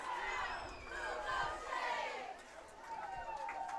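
At a rural high school football game between North Central and Warner, a distant, faint crowd yells and calls out toward the chain gang on the far sideline, with several overlapping voices rising and falling.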